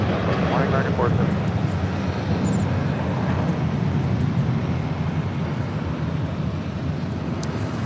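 A Delta Airlines jet departing LAX, a continuous loud low jet-engine roar throughout with voices talking over it.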